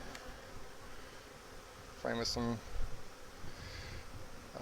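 Honey bees buzz in a steady low drone around an open hive during a colony inspection, with a close voice speaking briefly in the middle over the hum.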